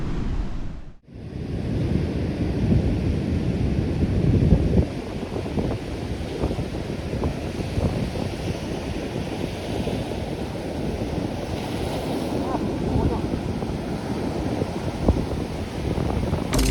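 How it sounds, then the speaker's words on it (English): Atlantic Ocean surf at Cape Point rolls in as a dense, steady roar of breaking waves, with gusty wind buffeting the microphone and a brief dropout near the start. "The weird thing is, this is the Atlantic Ocean."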